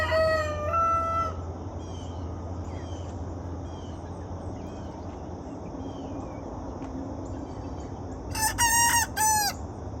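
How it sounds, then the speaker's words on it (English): A young rooster practices crowing with squeaky, toy-like attempts, one near burst at the start and a louder one close to the end, over a steady background hum. "while he's practicing being a rooster, he sounds like a squeaker toy"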